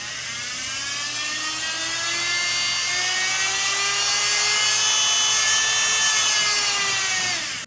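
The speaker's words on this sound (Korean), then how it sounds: "그라인더 같은 경우에는 다이얼을 돌려주시면 되는데 이런 느낌이에요." A Marker X corded electric grinder runs steadily for the whole stretch with a loud, high whine, and its pitch glides up and down as the speed dial is turned.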